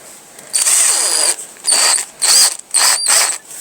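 A power drill whirs in four bursts, spinning a wire brush on parts of an old Mamod SR1 with a bright, high-pitched whine, each run lasting about half a second to a second, close by.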